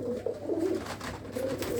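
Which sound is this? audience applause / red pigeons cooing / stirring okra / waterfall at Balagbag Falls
red pigeons cooing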